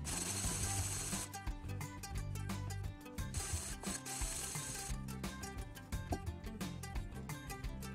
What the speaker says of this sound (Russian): Их нужно долго шлифовать, меняя гридность наждачной бумаги.